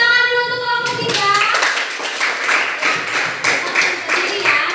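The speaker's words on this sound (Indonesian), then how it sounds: "tepuk tangan dulu untuk kelompok 3" A classroom of children claps for a student group after its presentation, with steady, fairly close clapping that starts after a brief voice and continues under a little chatter.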